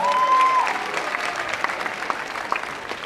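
An audience at a Jhalak Dikhlaja dance event in Dubai applauds to welcome a jury member, with full, close clapping from many people that eases off slightly after the first moments.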